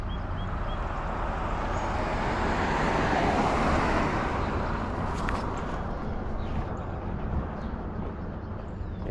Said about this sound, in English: Let's wait for his car to go by.